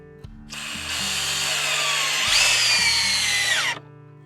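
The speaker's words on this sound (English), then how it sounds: "Drill all the way on both sides to make it as good as you can." A power drill whines steadily into wood for a few seconds, its pitch rising and bending as the bit bites, then stops abruptly.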